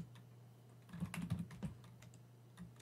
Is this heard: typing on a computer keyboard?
yes